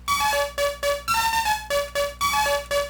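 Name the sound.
synthesizer lead with LFO modulation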